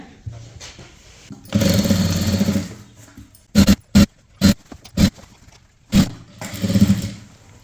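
A sewing machine stitches a maxi dress, a close mechanical whirr in several runs: one longer burst, then quick short pulses and a final run, separated by pauses.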